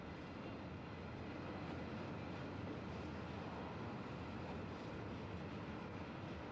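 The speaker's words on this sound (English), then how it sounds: "The timber is loaded onto trains at special inland terminals, from where it's carried directly to the mills on the coast." A freight train hauling timber rumbles past in a continuous, dense roar of wheels and wagons, steady and unbroken throughout with no voices.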